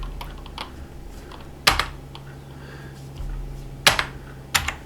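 Keys struck on a computer keyboard while playing a strategy game: a few sharp, isolated clicks with short bursts of lighter taps between them, close and distinct over a quiet hum.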